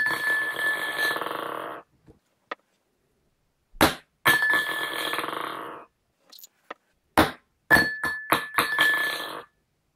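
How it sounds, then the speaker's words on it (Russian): Glasses, shot glasses and ping-pong balls handled in a trick make sharp clinks, knocks and ringing taps in bursts, some ringing on with a sustained glassy tone between short silent gaps. "Обычно фокусы с шариками от пинг-понга, стаканами и рюмками показывают вот так."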